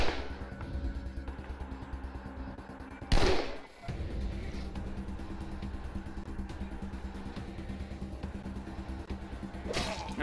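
Gunfire in Wasteland 2 combat: a loud sharp blast crashes in near 3 seconds, another shot cracks near the end, and a low rumbling, clattering battle bed runs between them.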